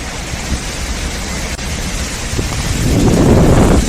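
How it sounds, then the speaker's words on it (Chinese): Strong gusting wind sweeps across a cliffside mountain path as a storm moves in, a steady broadband roar that swells louder toward the end, with no voices heard. "这个天气说变就变，这风太大了，"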